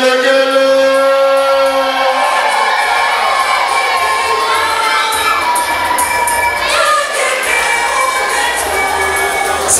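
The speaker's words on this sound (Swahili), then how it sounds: "wageni walikuwa tupige makofi mengi na vigelegele" Guests at a church confirmation celebration applaud and ululate loudly during a cake cutting. High, wavering trills ring over a dense, close bed of crowd cheering and clapping that runs without pause.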